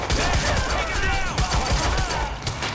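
Rapid bursts of gunfire in the video game Quantum Break crackle over a dense, noisy background of battle sounds, loud and continuous with no clear pauses.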